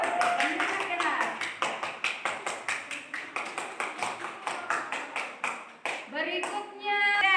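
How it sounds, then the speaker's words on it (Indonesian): A classroom group claps steadily for a student, a long run of quick, evenly spaced handclaps close by. A voice comes in near the end. "Dan tepuk tangan untuk Iren."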